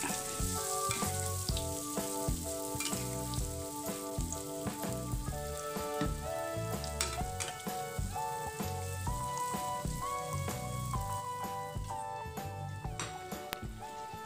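Tempe coated in kremes batter fries in hot oil with a dense, continuous sizzle and crackle, bubbling steadily and close, with no talk.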